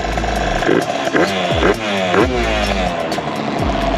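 A small two-stroke Yamaha Zuma scooter engine with an exhaust leak revs up and down repeatedly, buzzing and sputtering close by, with a raspy, popping edge to the exhaust.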